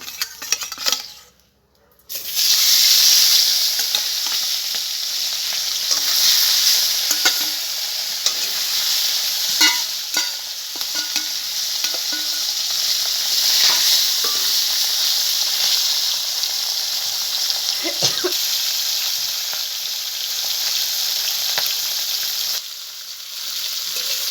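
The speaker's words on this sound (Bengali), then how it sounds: "তেল গরম হয়ে গেছে আমি এবার মাছ ভেজে নেব" A rohu fish head fries in hot white oil in a kadai. After a brief quiet start, a loud, close, continuous sizzle and hiss runs throughout, with occasional clicks and scrapes.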